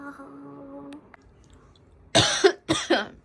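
Two loud, harsh coughs close to the listener, a short pause between them, following a quiet moment with a faint tone.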